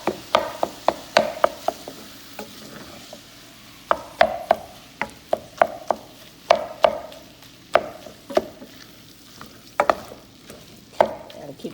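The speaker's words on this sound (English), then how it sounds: "we want to brown the ground beef. And I'm breaking it up with the wooden spoon." Ground beef browning in a pan as a wooden spoon breaks it up, with repeated sharp scrapes and taps in an uneven rhythm over a steady low sizzle, close and clear with no talking.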